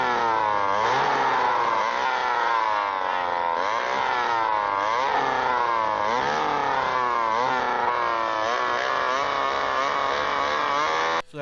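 Chainsaw from a horror film, a continuous buzzing engine snarl with fluctuating revs that runs loud and unbroken before cutting off abruptly at the end.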